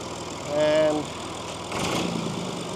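A small Massey Ferguson tractor with a little three-cylinder engine runs at a low idle, a steady mid-range rumble that swells briefly, with a voice speaking over it.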